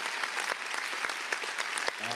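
A live audience claps for the guys, a short burst of dense, steady applause heard close.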